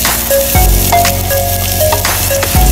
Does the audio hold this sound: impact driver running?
no